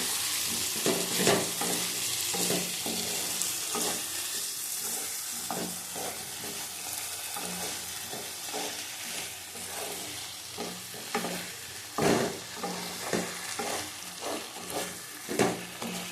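Potatoes stir-fried with spices in oil for a spicy aloo dum, a steady close sizzle broken by repeated scraping and stirring strokes of a spatula against the pan, no voices.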